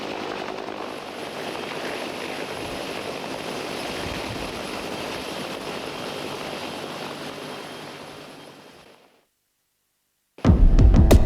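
A Tiger attack helicopter flies with a steady, loud, throbbing rotor and engine drone that gradually fades away. Near silence follows, then a sudden loud burst of another sound at the end.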